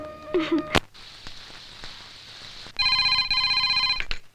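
A telephone rings at home with a bright electronic ringtone, repeating tones lasting over a second, after a short sharp knock and a brief voice earlier in the clip.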